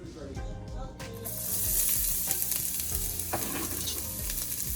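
Hot oil sizzles and crackles in a pan before brown stew fish is cooked, a loud, close, steady hiss that swells after the first second and carries on with small pops, no talking.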